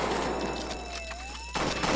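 Gunfire in the Roblox game Jailbreak comes as rapid bursts of shots at the start and again near the end, over a steady electronic game tone.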